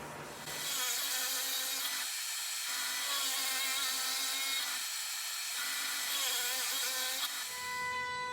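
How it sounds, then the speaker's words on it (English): A drill press fitted with a 1-inch spade bit bores holes in wood for a floor bed frame, its high whine rising and dropping in several cutting passes with brief lulls between, loud and close. "I would then cut each of these holes out using a 1-inch spade bit on my drill press"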